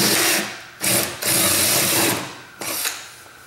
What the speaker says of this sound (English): drilling a round hole at the end of the crack